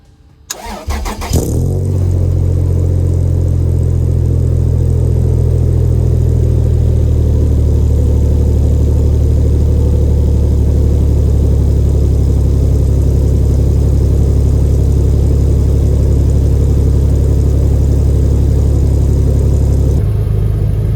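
A 4th-generation Toyota 4Runner SUV engine cranks and catches on a cold start, then settles into a steady, loud, low idle with a slightly raspy rumble that holds for the rest of the clip.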